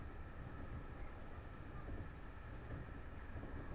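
A train passes in the Train Drive ATS 3 video game with a continuous low rumble and rail noise, steady and fairly close, with no voices.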